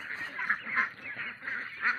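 Pak Nam ducks, a male and a female, call out in repeated nasal honking quacks, several loud bursts close by in steady succession without other sounds.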